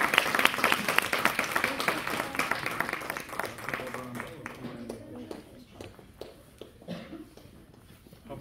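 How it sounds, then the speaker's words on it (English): Applause from attendees at a school board meeting, dense clapping that starts loud and gradually thins out into scattered claps, with some talking mixed in underneath. "why don't you get a round of applause and a picture"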